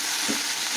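Red amaranth greens going into a hot frying pan over already-fried ingredients, giving a steady close sizzle and frying hiss through the whole short moment.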